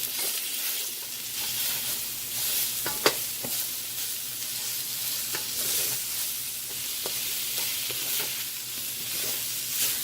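Chicken, onions and garlic stir-fry in a pan with a constant close sizzle, broken by occasional clicks and scrapes of a utensil mixing them, no voices over it.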